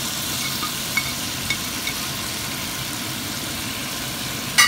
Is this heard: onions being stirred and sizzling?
yes